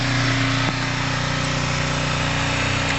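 Kawasaki ZL600 motorcycle engine idling while warming up, a steady close droning rumble with a slight hitch early on, continuous with no voices.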